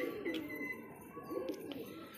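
Colourful pigeons let out of their loft coo softly nearby, low rounded calls repeating over a steady background murmur, with faint chirps above.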